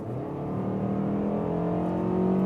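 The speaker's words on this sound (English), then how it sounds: "you hear this naturally aspirated engine, really going in the RPMs" A naturally aspirated engine in a facelifted Mazda CX-5 climbs through the revs while accelerating from 60 to 80 km/h, a steady droning whine that rises in pitch and grows slightly louder, heard from inside with no talking.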